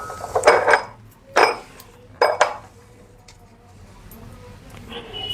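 Delhi glassware juice jar set being handled, with three bursts of bright glass clinks and knocks spaced a second apart, close and fairly loud, then quieter handling.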